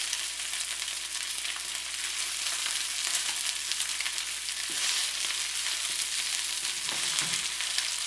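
Chicken pieces fry and brown in a pan for a Chinese mushroom chicken dish, a steady dense sizzle with faint stirring clinks near the end, no talking.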